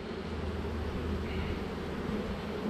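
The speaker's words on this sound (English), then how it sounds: "I'm going to go ahead and shake this frame of bees in here" Honeybees from a captured swarm buzz steadily as a frame of bees is shaken, a dense, continuous hum close by with no voice over it.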